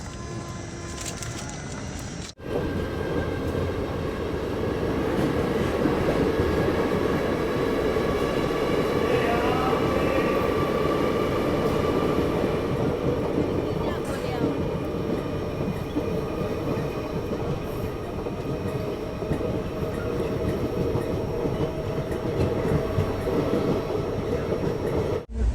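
The Shridham Express rolls into Shridham railway station, a steady loud rumble and rattle of the coaches heard from on board, with faint voices and bird calls in the background for about 25 seconds.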